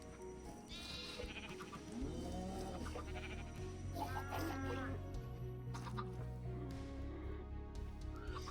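Repeated sheep bleats in the modded Minecraft pack All The Mods 10, some high and thin like a lamb, with clucking fowl and steady farmyard ambience.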